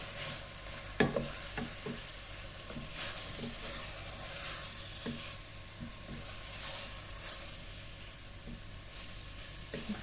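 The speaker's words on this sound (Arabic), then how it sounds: "نخليهم يتقلاو شي شويه" Chicken pieces with onion and herbs fry in a pot, a soft steady sizzle with scattered stirring scrapes and taps throughout, fairly quiet and without talk.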